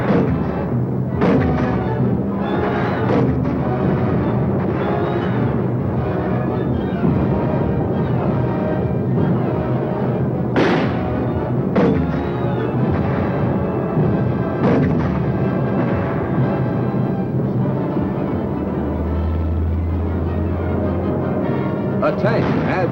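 Artillery gun fired by a Korean War crew, heavy booms and blasts recurring through a dense, loud battle soundtrack with a narrator's voice talking over it.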